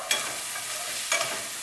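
Salted onions cooking in a pan for carne adovada, stirred briefly: a soft continuous sizzle with two quick spoon scrapes about a second apart, near and fairly quiet.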